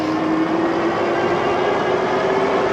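A SUPER73 electric bike motor at full throttle climbing a hill gives a steady, loud whine with a constant drone and no breaks, and no one talks.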